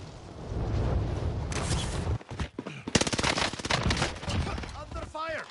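Video game gunfire crackles in dense automatic bursts and sharp shots, loud and continuous, with faint game voices mixed in.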